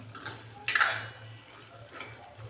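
A spoon stirs masala brinjal curry in a pan, giving soft scraping strokes with one sharper metallic clink, while a low steady hum runs underneath.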